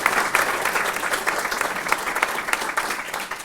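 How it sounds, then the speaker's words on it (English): A short burst of audience applause at a craft symposium after the presentations, fairly dense clapping heard at moderate distance for a few seconds. "I want to have a big applause for these wonderful presentations"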